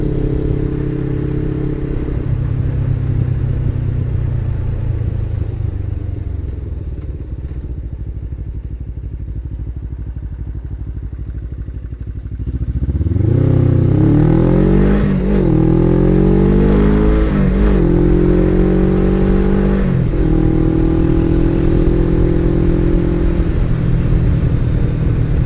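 A Suzuki SG 650 motorcycle cruises at a steady engine drone, eases off to a lower rumble, then opens up hard, its revs sweeping upward through several gear pulls, loud and close.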